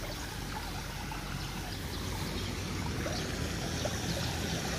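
Water runs and splashes steadily at a resort with cottages, a constant faint rushing and trickling wash that carries on unbroken with no voices.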